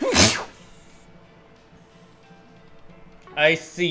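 A sharp, loud sneeze bursts out at the very start, followed by quiet game background and then a short spoken reply near the end.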